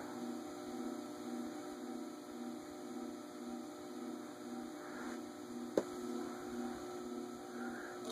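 An Evergo Bananafan Classic Deluxe ceiling fan runs noisily with a steady electrical hum and whine, plus a single sharp click partway through.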